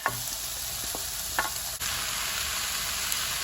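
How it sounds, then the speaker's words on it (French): Carrots and other vegetables cooking in a pan for chicken with vegetables, a close steady sizzle with a few clinks and scrapes of stirring early on. "Je vais laisser les légumes cuire un peu"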